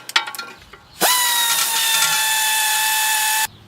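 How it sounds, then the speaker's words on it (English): A power ratchet or drill spins to remove inner CV joint bolts on a VW Passat: a few clicks, then a loud, sustained high whine for about two and a half seconds before cutting off. "I've removed all the inner CV joint bolts."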